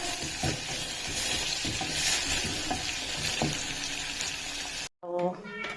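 Onions frying in butter in a pan for mukimo, a steady crackling sizzle with light stirring scrapes throughout, ending abruptly with a short burst of a voice.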